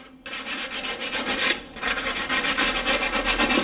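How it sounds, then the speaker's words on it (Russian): Fine sandpaper rubs back and forth over rusty spots on an LG washing machine door during repair, giving a steady, close, rhythmic scratchy hiss with no talking. "берем наждачку, такую более нулевочную, не грубую, и зачищаем эти ржавые места наждачка"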